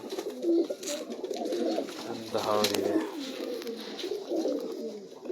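Sialkoti pigeons coo in low, rolling murmurs close by, while a person speaks briefly over them.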